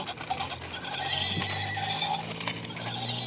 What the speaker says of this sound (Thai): ม้าลายของเรา